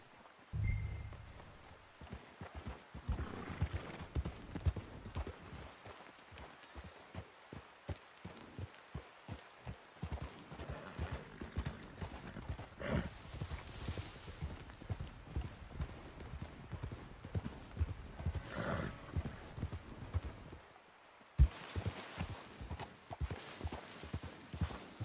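Horse hooves clip-clop steadily on a ridge in Red Dead Redemption 2, a continuous rhythmic trot of moderate loudness heard alone without voices, broken by a brief pause near the end.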